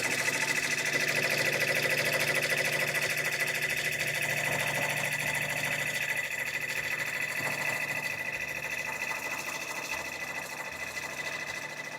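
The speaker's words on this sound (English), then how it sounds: "I know the machine's going to start right there." An embroidery machine stitches a lion design, giving a steady, even mechanical whir and fast needle rhythm that carries on without pause, close and moderately loud, with no talk over it.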